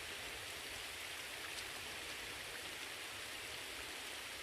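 Rain in Red Dead Online falls as a faint, even, continuous hiss of drops on surfaces, steady throughout and heard alone with no voices.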